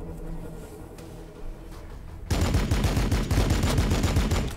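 A quiet stretch gives way to a sudden burst of rapid, continuous gunfire in Warhammer 40,000: Battlesector, loud and sustained until the end.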